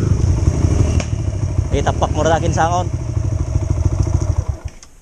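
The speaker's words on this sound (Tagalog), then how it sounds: "ito yung bagong modelo na enduro ng microbike" A new-model enduro motorbike engine runs steadily up close, a loud, rough mid-pitched drone with clattering mechanical texture, while a person talks over it briefly in the middle.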